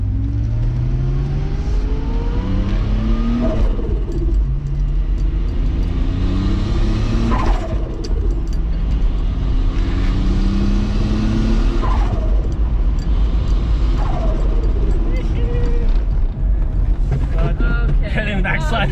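A turbocharged VR6 wagon accelerates hard through repeated gear pulls, each climbing rev sweep ending in a sharp shift, loud and close over wind noise, with people talking in the car now and then.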